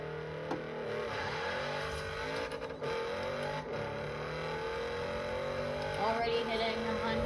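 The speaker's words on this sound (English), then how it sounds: "that's how it sounds, not moving, just revving" A Lamborghini Urus engine is revved while standing still. The close, steady drone climbs and falls in pitch several times across the clip.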